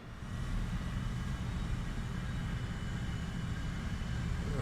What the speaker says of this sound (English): I got one enemy airplane closing in.